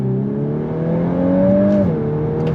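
A VW Golf R with all-wheel drive and a dual-clutch automatic accelerating hard in first gear, its engine note climbing steadily under full throttle before a brief dip at the shift, loud and close from inside the car.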